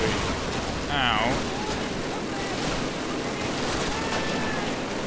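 Sustained gunfire from Call of Duty during a tank battle, a dense continuous crackle of shots and blasts filling the whole stretch, with a faint voice briefly audible beneath it.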